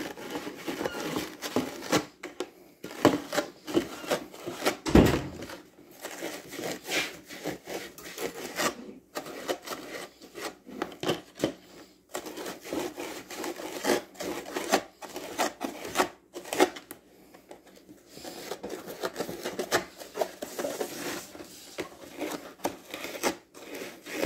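A Scotch-Brite pad rubs over the cut edges of a homemade quail feeder, making irregular scratchy scuffing strokes in uneven bursts, soft and close with no talk.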